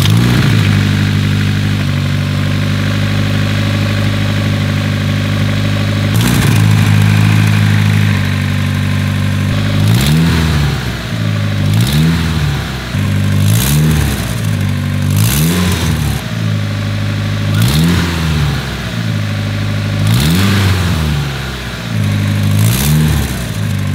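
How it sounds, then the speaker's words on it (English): A Nissan 240SX engine of over 350 hp with a wastegate problem idles with a steady low rumble, then revs up in several short bursts, each rising and falling, close and loud. "post both clips of the car actually running and me revving it just a little bit"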